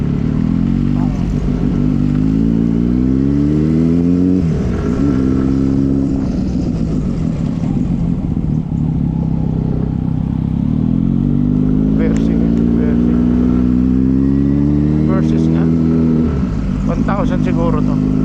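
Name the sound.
motorcycle engine revving on the road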